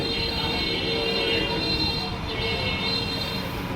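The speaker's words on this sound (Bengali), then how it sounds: "আর কিছুক্ষণের মধ্যেই হয়তো ট্রেন চলে আসবে" A train pulls into a station on the way to Khulna, a steady rumble of wheels and carriages filling the air with continuous rolling noise and faint metallic squeals, close and unbroken throughout.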